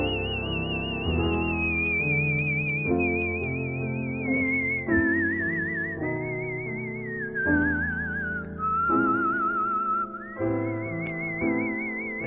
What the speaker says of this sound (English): the whistling just wrecks the song